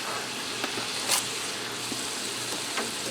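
Diced onion dropped into ground beef browning in a pan for hamburger gravy, giving a steady, fairly quiet sizzle with a few soft scrapes and a brief hiss partway through.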